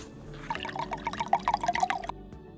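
Seltzer water is poured for about a second and a half, a close, bright splashing and fizzing stream that stops abruptly, leaving a quiet tail.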